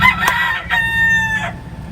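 A rooster crows loudly and close by, one drawn-out call that cuts off abruptly, followed by quieter background.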